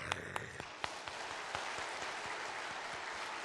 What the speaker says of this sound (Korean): 일단 박수 좀 쳐줘봐